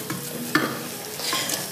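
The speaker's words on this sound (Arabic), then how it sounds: "قليوا البصل نتاعنا" Onions being stirred in hot oil: a few short scraping stirs over a soft sizzle, close and moderately loud in a brief burst.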